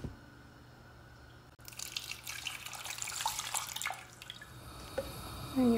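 Water pours into a cooking pot holding tomatoes and serrano chilies, a close splashing rush that starts abruptly and runs for several seconds before easing.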